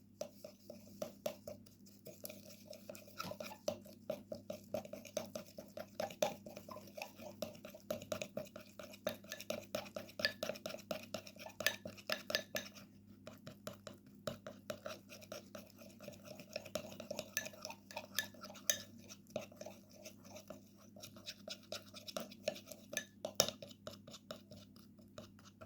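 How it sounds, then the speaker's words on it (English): Ingredients for a homemade teeth-whitening mixture are stirred in a small dish, with a spoon clinking and scraping in a fast, steady rhythm close up. The clinks are quiet but continuous, with no talking. "Now we need to mix well the ingredients."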